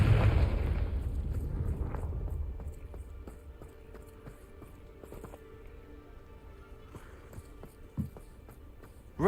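Confringo spell explosion in Hogwarts Legacy: a loud low blast opens, then rumbles and fades into quieter game ambience with a few faint thuds and clicks.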